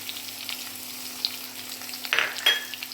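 Small onions dropped in among ginger and green chillies already frying in oil for a Kochi-style fish dish: a steady soft sizzle, then a brief louder crackle as they hit the pan, with a low hum underneath and no speech.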